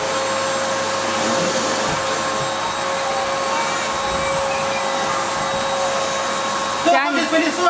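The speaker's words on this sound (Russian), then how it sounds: "Прочистили пылесос, сейчас будем." Household vacuum cleaner runs with a steady loud whine and hum just after being cleaned out, then a brief rustle near the end.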